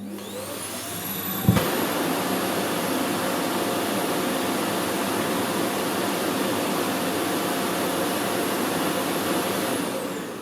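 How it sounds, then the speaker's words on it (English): A Dreame Z10 Pro robot vacuum dock empties its dust box on high power, starting with a rising whine and a thump, then a loud, steady suction roar that holds for several seconds before winding down. "So the vacuum in the dock runs on high power for about 5 seconds."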